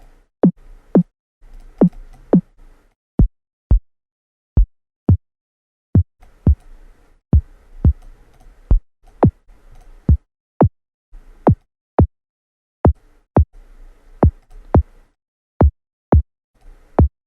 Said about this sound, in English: Pretty simple kick.